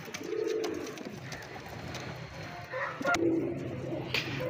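Pigeons kept as flying birds at a Lahore pigeon sale coo nearby in a few soft, low repeated calls, with light background noise and brief bumps between them.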